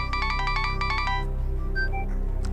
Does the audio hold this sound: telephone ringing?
yes